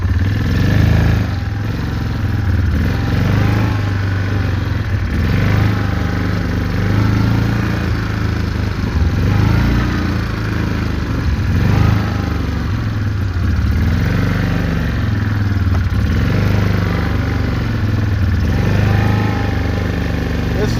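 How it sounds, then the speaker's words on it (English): Quad bikes racing around a dirt track near ponds, engines revving and rising and falling in repeated loud passes with mechanical clatter, while people talk over the running motors. "we spend a lot of time just racing around on the quads"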